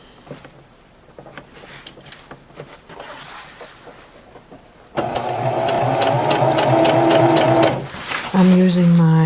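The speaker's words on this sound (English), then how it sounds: "I'm just sewing along the edge of the foot and the ribbon" A sewing machine stitches ribbon along the edge of a show ribbon garment bag, guided by the standard presser foot. After quiet handling it starts with a steady, loud whir that runs for about three seconds, then stops briefly and resumes.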